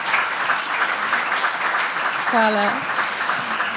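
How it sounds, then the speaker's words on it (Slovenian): A concert audience at a charity music and arts festival claps steadily and warmly throughout, while a voice briefly speaks over the applause and a short sung or tonal note rises in the middle. "A nas boste pospremili z enim aplavzom"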